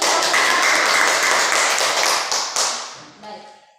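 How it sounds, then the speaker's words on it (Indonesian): Students in a grade ten Catholic religion classroom clap together in a brisk, loud burst of applause that lasts about three seconds, then thins out and fades to near silence. "Kita tepuk tangan dulu."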